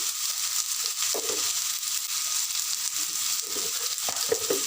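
Mashed drumstick (sajne danta) is sautéed with spices in a pan for a bhorta, a soft continuous sizzle with intermittent scraping and stirring clinks close by.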